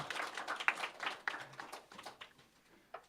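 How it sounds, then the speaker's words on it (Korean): Brief, fairly quiet congratulatory applause from a church congregation during a Sunday service, a scattered burst of hand clapping that thins out and fades within a few seconds. "우리 축하의 박수."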